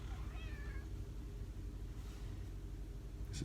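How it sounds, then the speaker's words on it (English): Indoor cat being cat-sat meows briefly near the start, a short rising-falling call, then fainter sounds over a low steady room hum with no talking. "I got a cat meowing at me right now."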